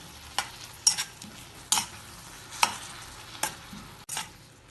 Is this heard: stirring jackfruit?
yes